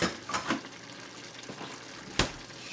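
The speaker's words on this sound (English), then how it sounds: "Now we're going to stir it up and use the skillet" Shrimp and vegetables with zero-sugar teriyaki sauce cooking in a skillet, a soft steady sizzle with a few scraping stirs and one sharper clack of utensil on pan, close by, no talking.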